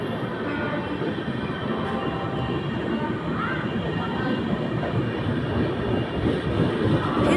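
A train carries pilgrims toward the Mahakumbh fair, a loud continuous rumble of wheels and carriages with faint rhythmic clatter, heard from on board and steady throughout.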